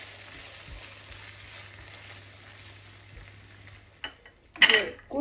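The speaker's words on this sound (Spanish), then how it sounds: "Vamos a agregarle nuestra salsa de tomate. Vamos a mover bien." Tomato sauce stirred into a hot frying pan with toasted eggs and potato chips, a steady soft sizzle with scraping spoon strokes, then a loud burst of spitting as the sauce hits the oil.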